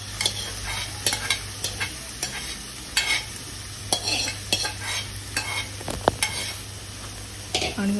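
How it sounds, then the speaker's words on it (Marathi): Cluster beans (guar) sizzle in hot oil while a spoon scrapes and stirs them in a pan, giving a steady frying hiss with intermittent clinks and scrapes, close up and without speech. "त्यासाठी तेलावर प्रथम मी गवार परतून घेते."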